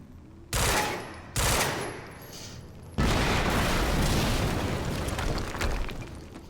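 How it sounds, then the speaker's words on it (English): Two sharp blasts burst in quick succession, followed by a sustained roar of rapid gunfire and rumbling explosions, loud and close, in the game Quantum Break. "we just heard an explosion near the harvesting perimeter"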